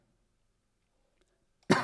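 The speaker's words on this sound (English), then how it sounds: "Excuse my little coughs and splutters" Someone with a cold lets out a single short cough after near silence, abrupt and fairly close.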